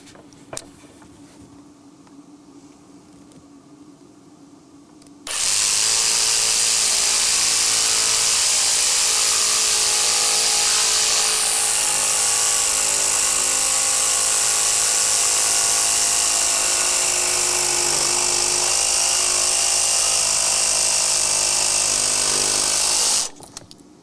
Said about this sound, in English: Now, I'm gonna take the jigsaw out now.